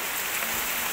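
Rain falls steadily in a dense, even hiss, heard close around a car interior with no voices, a constant wash of drops.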